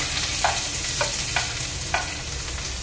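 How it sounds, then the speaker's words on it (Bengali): Mustard seeds splutter in hot oil in a pan along with onion, green chili and curry leaves, giving a steady close sizzle broken by a handful of sharp popping crackles. "সর্ষেটা এত ছিটকাচ্ছে"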